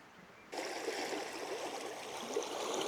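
A river's main current rushes past at a camping spot, a steady broadband roar that swells in suddenly after a quieter start and holds continuously nearby.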